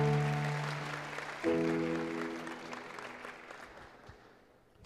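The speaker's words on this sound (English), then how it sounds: "Claps కొడదామా గట్టిగా." Applause from an audience at a Telugu-region youth fest, a dense wash of clapping that swells briefly and then fades, heard over sustained musical tones in the background.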